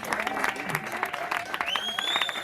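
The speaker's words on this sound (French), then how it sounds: "on va l'applaudir très très fort" A synagogue audience claps steadily in honor of its caretaker, a dense, close patter of hands that holds for a couple of seconds with voices mixed in over it.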